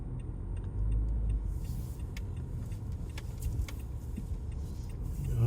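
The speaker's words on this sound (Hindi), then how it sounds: "यहाँ गाड़ी हम पार्क कर लेते हैं।" A car rolls slowly into a parking space in Khobar, its low engine rumble and tyre noise steady and close, with faint clicks and rattles above and no talk.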